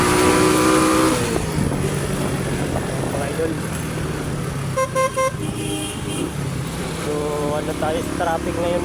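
Midday city road traffic with car engines revving, several short horn toots and passing vehicles, heard up close while someone talks over it.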